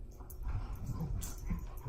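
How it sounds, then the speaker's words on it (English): Dogs playing nearby, with soft whimpers, little yips and scuffling noises in short irregular bursts. "The dogs are playing, so if you hear anything in the background, it's them."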